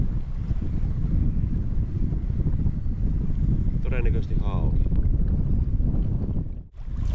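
Strong wind sweeps across a lake during rowing, a loud, constant roar of gusts battering the microphone with water sounds beneath, while someone speaks briefly partway through.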